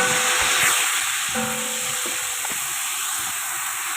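Ginger, garlic and chili paste sizzling in a hot pan for chana pulao, a steady close hiss with light stirring scrapes and no talking.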